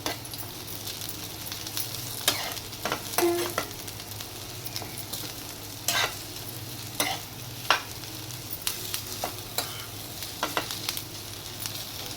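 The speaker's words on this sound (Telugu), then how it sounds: "ఈ దొండకాయలు ఇలా వేగుతుండగానే ఇందులో కొద్దిగా కరివేపాకు కూడా వేసుకుంటున్నాను." Ivy gourd with curry leaves fries in a pan under a steady sizzle, while a spoon stirs and scrapes in irregular, sharp clicks throughout.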